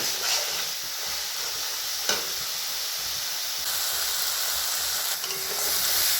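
Chicken do-pyaza masala, onions and tomatoes, frying in oil in a pan: a steady close sizzling hiss with one sharp spatula scrape near the middle, with no one talking.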